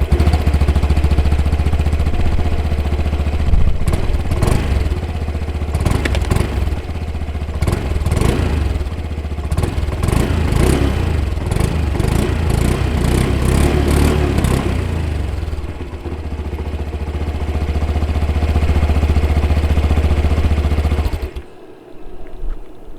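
A 2021 Honda Vision 110 scooter engine runs steadily while riding, a loud continuous drone with a clattering rhythm and repeated throttle surges before it dies away near the end.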